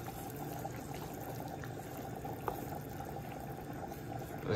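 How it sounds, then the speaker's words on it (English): Black beans simmering on low with half a can of coconut milk, thyme and bay leaf make a steady, soft bubbling that holds evenly throughout, with one small pop near the middle. "Let these beans simmer."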